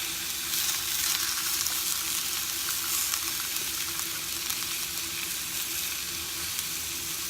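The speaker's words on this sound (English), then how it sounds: "So I'm going to sear it on all sides." Pork searing in a pressure cooker pot for carnitas, a steady, moderately quiet sizzle with a constant low hum beneath it.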